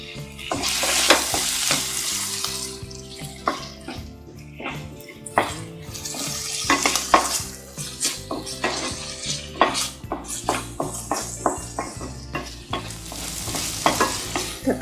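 Tomato sautéing with onion, ginger and garlic in a pan for mushroom masala, with a spatula scraping and clattering repeatedly against the pan over a continuous sizzle, heard up close and busy throughout.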